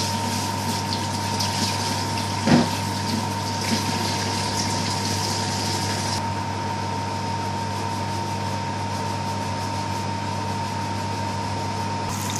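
Water poured into a pot of fish curry with potatoes and pangasius fillet, heard as a steady, continuous liquid rush with a brief splash early on, fairly loud and alone without talk.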